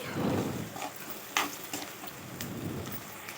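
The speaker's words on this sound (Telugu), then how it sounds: "ఒక ఐదు ఆరు స్పూన్ల ఆయిల్ వేసుకొని ఉల్లిపాయ ముక్కల్ని ఇలా దూరగా వేయించుకోవాలి" Onion pieces frying in a few spoons of oil in a pan, a steady broadband sizzle with occasional sharper crackles and pops, close and fairly quiet, no voices.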